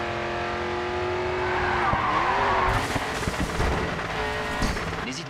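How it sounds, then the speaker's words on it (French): Racing car in the video game Grid 2 skids and spins out, a loud sustained tire squeal sliding in pitch over roaring engine noise, then breaking into rough scraping and revving as the car loses grip. "dans la voiture je freine, je pars en tête à queue, je pars en vrille, je pars en tête à queue"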